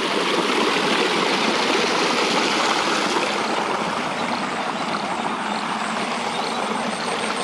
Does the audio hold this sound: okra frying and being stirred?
no